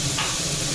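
Mustard seeds, dried chili and curry leaves frying in oil, a steady dense sizzle that holds evenly loud and close throughout the short moment.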